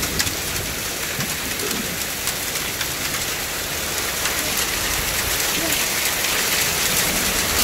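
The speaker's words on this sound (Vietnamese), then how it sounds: "Mưa còn đá còn rơi cả vào trong nhà này anh này." Hail and rain pound a house roof in a mountain village, a dense, steady roar of close drumming that holds at the same level throughout, with no voices over it.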